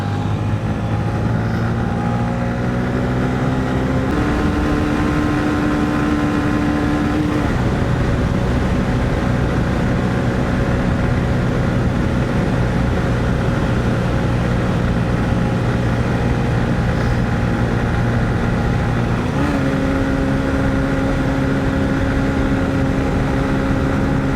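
A Honda CB125F motorcycle with a fresh iridium spark plug, its small single-cylinder engine droning loud and close while ridden hard at full throttle, steady tone shifting with gear changes and speed, no talk.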